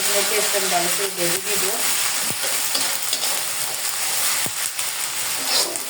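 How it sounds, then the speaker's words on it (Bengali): Chili and onion frying in oil in a pan give a steady sizzle with stirring scrapes and a few sharp clinks. A voice speaks briefly at the start. "মরিচটা ভালো করে ভেজে নিই"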